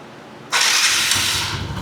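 A TVS 125cc motorcycle engine cranks and catches abruptly, then settles into a steady, close running rumble.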